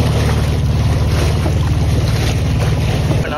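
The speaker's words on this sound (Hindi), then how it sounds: "बहुत अच्छा हवा चल रहा है गाइस" Strong wind buffets the microphone in a constant loud rumble while boating on the Ganges along the Banaras ghats, with an engine-like low drone underneath and no talking.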